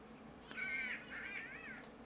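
Birds call in the forest of the medieval game Kingdom Come: Deliverance, a few faint rising and falling whistled calls over a steady low ambient hum, no talk.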